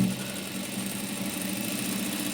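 Sewing machine stitching a double seam on an Ariwork blouse, running as a steady, continuous mechanical hum and whir at close range throughout, with no talking.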